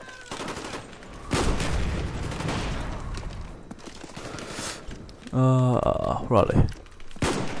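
Gunfire in the Call of Duty Black Ops video game comes in scattered bursts and single shots over background game noise, with a player speaking briefly and a short tonal sound effect near the end.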